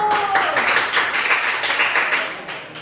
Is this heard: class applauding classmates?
yes